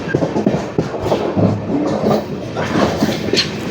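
Aboard the Amrita Express nearing Changanassery, the carriage gives off a continuous rolling rumble broken by irregular clicks and knocks from the wheels on the rails.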